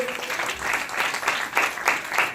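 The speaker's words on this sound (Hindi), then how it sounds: "हालेलुया, जोरदार ताली देंगे।" A church congregation applauds during a pastor's sermon, a short burst of clapping in several uneven swells at moderate volume, with no talking over it.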